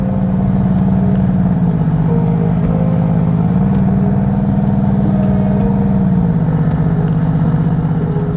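Aston Martin Vantage race car engine with a raw, rough idle, a loud steady drone that rises and falls slightly in pitch as the revs shift, heard alone.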